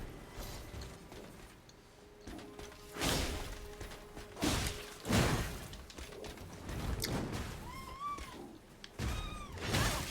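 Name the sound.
cat meowing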